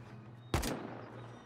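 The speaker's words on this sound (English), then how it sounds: "Whoever's shooting AK over there is shit" A single sharp AK rifle shot in the Rust video game, sudden and loud against a quiet, humming background before fading quickly into stillness.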